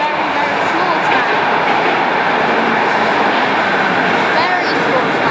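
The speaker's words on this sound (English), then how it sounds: "And here it is, the tram." Viennese tram passing Laurenzgasse station, a steady loud rumble of wheels and motor sustained throughout with faint high squeals, close by, with speech over it.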